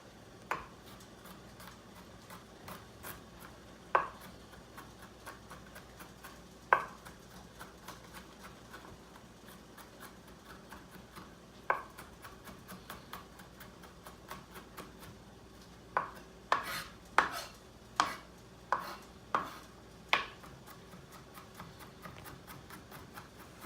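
A knife chops three good-sized garlic cloves on a cutting board in a home kitchen, producing sparse sharp taps at first and then a quick burst of closely spaced chops, faint against quiet room tone.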